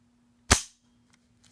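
A VZ-58 Sporter rifle fitted with a muzzle brake fires a single loud, sharp shot that cuts off quickly into a brief fading tail, followed by quiet.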